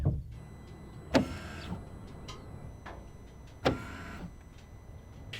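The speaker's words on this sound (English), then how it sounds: "And then dynamic downforce to extend the spoiler." Rear spoiler of a Porsche 992 GT3 RS powering up into its extended position, two sharp mechanical clunks a few seconds apart between a whirring motor hum, heard close from inside the car.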